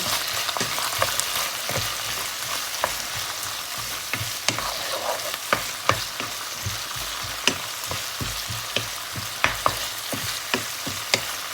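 Red fish balls being stir-fried in a pan, a loud steady sizzle punctuated by regular spatula scrapes and taps against the pan, close up with no talking.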